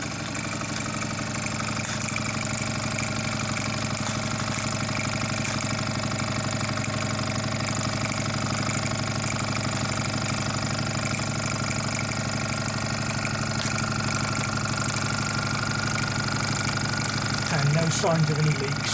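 A repaired Mersey 52 engine runs steadily at a constant idle with a dense, even hum and faint mechanical ticking, holding level throughout, with a brief soft knock near the end.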